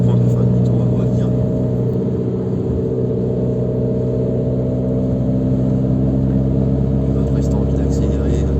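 A Renault Clio 4 RS drives along a road, heard from inside as a loud, steady engine drone with a low rumble that holds an even pitch throughout.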